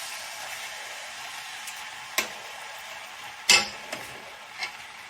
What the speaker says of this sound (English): let me stir that around a little bit first to get it going